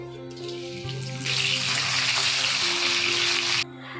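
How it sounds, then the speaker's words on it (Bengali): Dry red chillies and bay leaves hitting hot oil in a kadai, a steady close hiss and sizzle that swells loudly after a brief start and cuts off near the end, with no talking. "কড়াতে তেল দিয়ে দিচ্ছি, 2টো শুকনো লঙ্কা ফোড়ন দিয়ে দিচ্ছি, 2টো তেজপাতা দিচ্ছি।"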